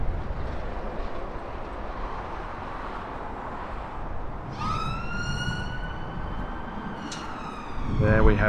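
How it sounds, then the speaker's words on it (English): Emergency vehicle siren wailing in the distance at Heathrow Airport over steady traffic and background rumble, its rising tone cutting in partway through, with a brief burst of louder noise at the end. "The routine lights and sirens of Heathrow."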